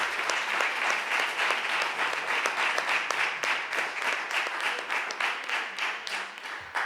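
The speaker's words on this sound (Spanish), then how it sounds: "vamos a dar un aplauso" Sustained applause from an audience at a book presentation, dense steady clapping throughout at an even level, with no voices standing out.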